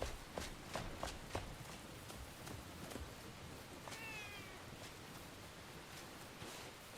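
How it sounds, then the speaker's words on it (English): A cat meows in the Enshrouded video game, a short rising mew in the middle of a stretch of sharp clicking game sounds and steps, fairly faint against the background. "Pet kitty cat."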